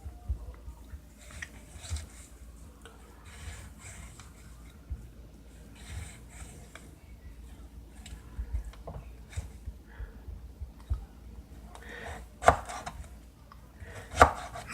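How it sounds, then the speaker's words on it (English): A knife cuts a lemon into wedges on a board, giving faint soft chops with a couple of sharper knocks near the end and a quiet background. "Our lemon, we're just going to cut into wedges."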